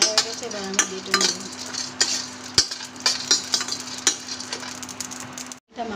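Ingredients for biryani fry in a pan with a close, crackling sizzle, punctuated by repeated clinks and scrapes of a utensil stirring against the metal, ending in a brief silence.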